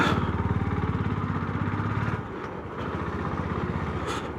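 A motorcycle engine thrums steadily up close, its low rhythmic putter loosening and turning bumpier partway through as the ride gets rough.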